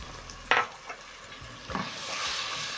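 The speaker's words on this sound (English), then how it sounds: "Stir in everything together and let the tomatoes cook until softened up." Diced tomatoes, tomato paste and spices sizzle in a pot with cooked onion while a spoon stirs and scrapes, including one sharp clink, with the frying hiss swelling toward the end.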